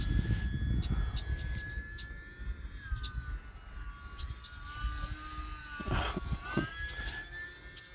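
A small E-flite UMX Timber X electric model airplane flies outdoors, its faint high motor whine rising and falling with throttle changes, at a distance and in wind noise.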